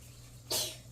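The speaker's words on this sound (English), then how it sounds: "Little one sneezing." A single short, sharp sneeze from a small child, close by, bursting out over a low steady hum.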